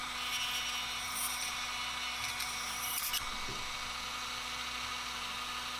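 A Dremel rotary tool whines steadily while carving a wooden jig lure, a constant high buzz with a few sharper bursts as the bit bites into the wood.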